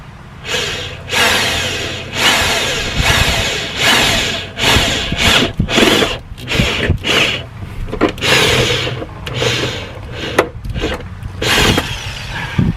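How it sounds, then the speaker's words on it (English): A power drill bores bolt holes into a Jeep JK fender, loud whirring bursts starting and stopping repeatedly in short runs with brief pauses between, close up in a garage setting. "Now we have all 4 of our bolt holes drilled"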